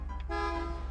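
A single short car horn toot sounds inside the video game GTA 5, a steady held tone of under a second over a low engine hum.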